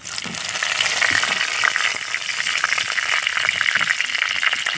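Curry leaves hit hot oil in a pan while a tomato egg curry is being cooked, giving a steady, close, hissing sizzle with a crackly spatter throughout and no talk.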